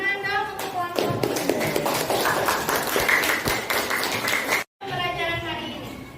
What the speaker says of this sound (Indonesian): kasih tepuk tangan dong untuk kelompok